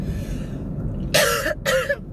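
Two harsh, throaty coughs in quick succession, close and fairly loud, after a quiet stretch.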